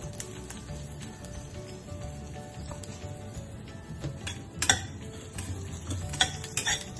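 A tempering with asafoetida fries in a pan for bitter gourd pulusu, making a soft, low sizzle with light clinks and scraping from stirring, close by and fairly quiet.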